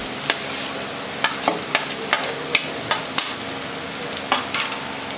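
Tomatoes sizzling in a pan with fried ginger, garlic and green chillies, stirred with a utensil that scrapes and taps in a steady series of sharp clicks over a constant frying hiss, close and clear with no talking.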